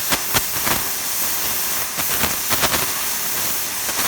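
An oxy-LPG gas torch cuts through steel plate, a loud continuous roaring hiss broken by sharp crackling pops of spattering molten metal, close by and without talk.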